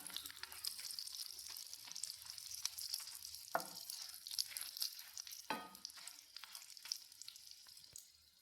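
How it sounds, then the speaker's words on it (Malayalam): Four or five Kashmiri chillies fry in hot oil that has just browned garlic, giving a soft, steady sizzle close by, with a couple of brief louder crackles, and no voices. "ഇനി നമുക്ക് നാലഞ്ച് കാശ്മീരി മുളകിട്ട് കൊടുക്കാം ഇതും അതേപോലെ ഒന്ന് മൂപ്പിച്ച് മാറ്റണം"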